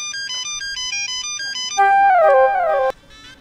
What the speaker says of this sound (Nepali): मोबाइल बाजेको बाँदैछ फोन उठाउनु पार्दैन